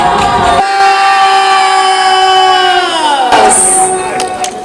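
A crowd of guests cheers on children at a Christmas event hosted by the First Lady, loud voices and a sustained tonal singing or shouting swell that dips, then a burst of higher excited cries near the end.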